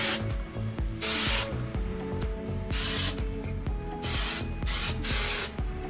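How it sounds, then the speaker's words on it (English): Hairspray sprayed onto styled prom hair, several loud hissing aerosol bursts of about half a second to a second each, separated by short pauses, with light rustling and handling sounds between them. "I'm just gonna hairspray that."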